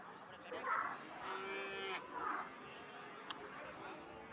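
A young buffalo calf about one year old at a livestock market gives a couple of drawn-out moos, faint and somewhat distant, over a murmur of background chatter and market noise.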